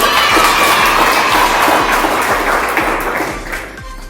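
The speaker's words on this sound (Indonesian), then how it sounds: "Terima kasih, tepuk tangannya." Students in a sociology classroom lesson applaud together, a loud, close burst of clapping that gradually tapers off.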